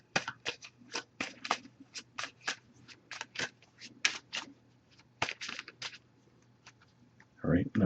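Crisp riffling and slapping of a Messages of Love oracle card deck being shuffled by hand, a rapid series of close, sharp bursts at an uneven rhythm, with a brief voice at the end.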